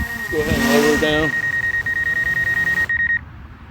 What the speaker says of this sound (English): That beeping noise is the obstacle avoidance you're hearing